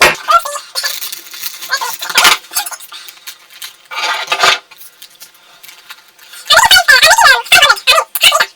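A metal spoon clinks and scrapes against a container as powdered milk is scooped in for homemade yogurt, bursts of close clinking separated by pauses, with a voice talking near the end.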